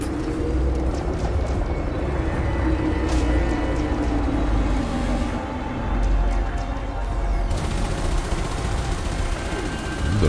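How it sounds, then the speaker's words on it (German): Laser weapons firing in the space combat game Elite Dangerous, a continuous dense roaring crackle with steady rumbling and hiss that keeps a constant loudness for ten seconds. "Das ist der Laser."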